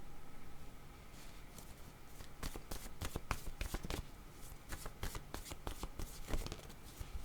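Tarot cards being shuffled by hand, a close, continuous flutter of riffling and sliding card edges with bursts of sharper snaps throughout.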